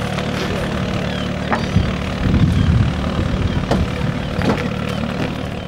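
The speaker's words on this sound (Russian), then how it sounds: "над крышами этой старой деревни разносятся одни и те же тарахтящие звуки корабельных моторов" Fishing boat engines rattle and drone over the rooftops of an old northern Russian fishing village, a steady low rumbling chug that fills the air continuously, fairly loud, with faint knocks and clatter on top.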